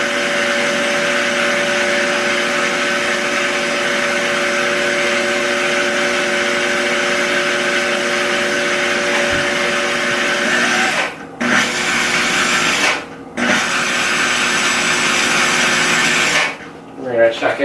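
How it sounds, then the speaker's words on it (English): A blender purees avocado salad on low speed, a loud steady whirring drone that holds for a long stretch and is then cut in short bursts near the end. "We're going to let that puree for us."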